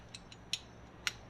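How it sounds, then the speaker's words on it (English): Three or four short metallic clicks from a torque wrench on the upper ball joint nut of a steering knuckle on a 2002 Chevy Astro, close and isolated against a quiet room. "torque on the top ball joint to steering knuckle nut"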